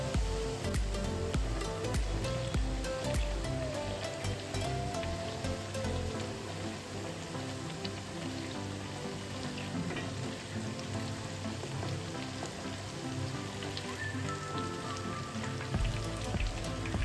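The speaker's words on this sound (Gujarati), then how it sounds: "ફરસી પૂરી તળવા માટે મેં છે ને કઢાઈમાં તેલ ગરમ કરવા માટે રાખી દીધું છે" Farsi puri, a Gujarati snack, fry in a kadai of hot oil, about ten to fifteen at a time, with a dense, steady crackling sizzle that carries on evenly throughout, with no talking.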